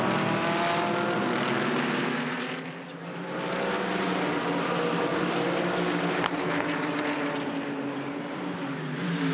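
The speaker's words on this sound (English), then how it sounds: "That's the thunder on the restart of the Mercedes AMG leading the Porsche." Race cars at the Bathurst 12 Hour, a Mercedes AMG V8 leading a Porsche flat six, thunder past on a restart: a loud, continuous roar that swells, dips briefly, then builds again.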